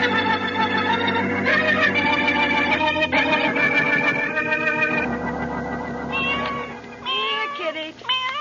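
A cat meows again and again in a radio drama, each call short and rising. The meows come close together and are fairly loud, with some changing pitch, and no voices are heard.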